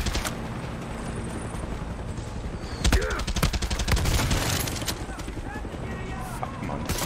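Rocket and gunfire in the video game Far Cry 6: rapid bursts of automatic fire crackle loudly through the middle of the passage, with sharp impacts and dense, chaotic shooting under a running game soundscape.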